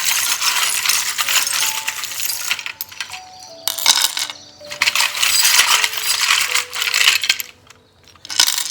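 Dice rattle and tumble during a card-reading session, a loud, close, jangling clatter of repeated clicks that keeps rolling, pauses briefly, then rattles again.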